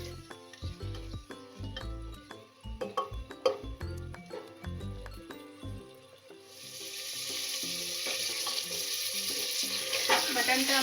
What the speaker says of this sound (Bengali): আমরা এটা পেঁয়াজের সঙ্গে একসাথে ভাজা ভাজা করে নেব।